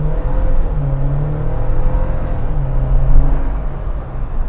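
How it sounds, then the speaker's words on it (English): A 2020 Jeep Wrangler Rubicon with its 2.0-liter four-cylinder pulls hard at full throttle, a steady, loud engine drone with rising harmonics that climbs through the gears, heard from inside the cabin with no talk. "I'm gonna just floor it."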